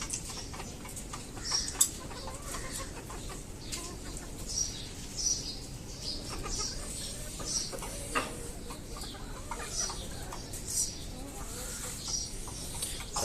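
Native village chickens cluck and peck at their morning feed on a small farm, with soft repeated clucks and tapping pecks in a steady rhythm close by.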